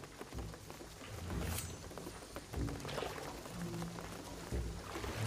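Rain falls in the video game Shadow of the Tomb Raider, a soft steady patter and splashing wash continuing throughout, fairly quiet, with low rumbles and scattered thuds beneath.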